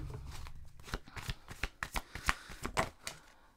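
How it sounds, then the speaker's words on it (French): A deck of oracle cards is shuffled nearby in a quiet room, the riffles coming as a run of quick, crisp flutters that build toward the end. "On va aller chercher 4 cartes oracle."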